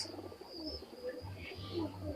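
Pakistani high-flying pigeons coo softly in low, rolling murmurs, a steady gentle burble with faint background chatter.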